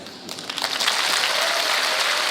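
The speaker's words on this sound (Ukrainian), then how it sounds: "От ви аплодуєте" Applause from a comedy show audience builds quickly into a dense, sustained wash of clapping that stays loud and even to the end.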